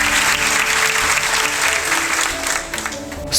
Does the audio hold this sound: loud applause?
yes